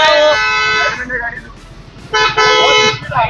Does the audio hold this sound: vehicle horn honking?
yes